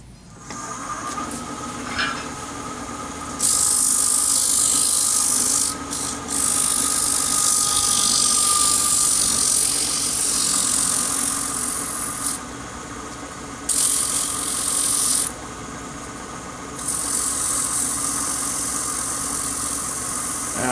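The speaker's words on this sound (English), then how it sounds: "let me do a little sanding before I talk about the next step." Sanding a turned wooden triangular box on a lathe: a steady motor drone with repeated bursts of harsh, hissing abrasive noise as the sandpaper is pressed on and lifted off, loud and close, with no talking.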